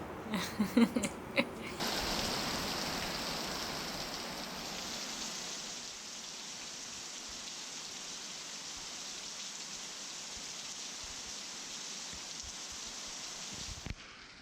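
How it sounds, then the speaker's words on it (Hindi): Rain falling during a motorbike ride in Karnataka, India: a few bumps and knocks at first, then a steady, even hiss of rain that holds for the rest, with a sharp thump near the end. "बारिश में भीगना, वो भी कर्नाटक की बारिश।"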